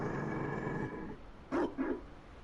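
A Mabari war dog in the video game Dragon Age Inquisition gives two short, sharp barks after a stretch of low rumbling background, fairly close and clear.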